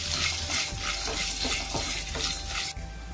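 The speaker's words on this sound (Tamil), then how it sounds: "இதை இப்போ நல்லா பொரிச்சுக்கலாம்." Dried turkey berries (sundakkai vathal) fry in hot oil with a loud, steady sizzle and crackle, broken by soft stirring scrapes, until the sound cuts off abruptly near the end.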